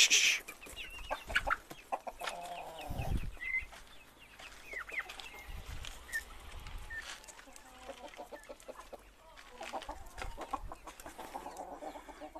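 Chickens, Leghorn hens and roosters, cluck and squawk steadily nearby, a flock with varied calls, some louder bursts, and a few low thumps in the background.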